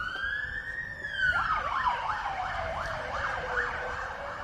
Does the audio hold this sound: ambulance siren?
yes